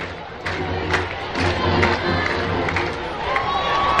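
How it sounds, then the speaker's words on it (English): Crowd at a high school football game in Waller, Texas, cheering and shouting in a steady, lively roar from the stands, with scattered louder yells rising over the din. "As the crowd has started to come alive here from Waller, Texas"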